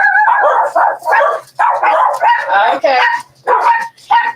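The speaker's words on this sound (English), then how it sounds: "Dogs, they're a little excited." Excited dogs bark and yip in bursts under someone talking steadily in a home setting, the barks partly masked by her voice.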